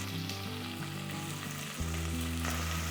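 Onions, cumin and curry leaves fry in oil for a brinjal curry, a loud, even sizzle over a steady low mechanical hum that shifts pitch slightly midway.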